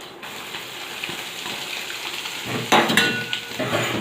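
Asafoetida and spices sizzling in hot oil in a pan for an eggplant bharta, a steady close crackle that grows louder near the end as more goes in.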